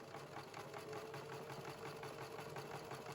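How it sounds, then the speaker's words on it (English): A sewing machine runs steadily, stitching along the straight edge of fabric for a shirt dress collar, a continuous mechanical whir with rapid needle rhythm, close and moderately quiet, with no voices. "I keep my needle in the fabric and I pick up the presser foot and turn the fabric so that I'm sewing along the other straight edge"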